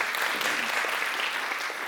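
A concert audience claps steadily and densely throughout, a continuous wash of many hands at even loudness with no distinct voices above it.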